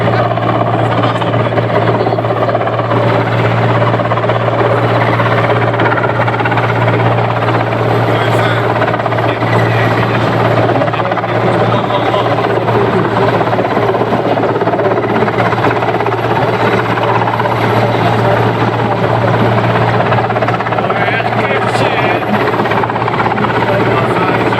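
Helicopter rotor and engine noise at an airsoft event stays loud and continuous, a steady throbbing drone overhead for the whole stretch.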